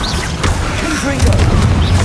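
A Confringo blast spell from the video game Hogwarts Legacy lands as a loud, deep boom with a rumbling tail, followed by another swelling burst in quick succession.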